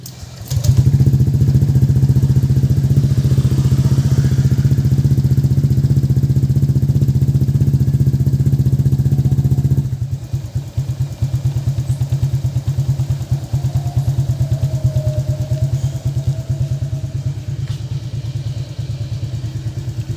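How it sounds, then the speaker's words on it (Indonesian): A motorcycle fitted with a 54N aftermarket exhaust idles loudly and steadily while warming up, with a deep, throbbing exhaust, then drops to a lower, choppier idle partway through and keeps running. "kita panasin dulu motornya karena gue belum panasin"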